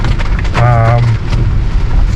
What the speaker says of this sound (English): it's a lot of rain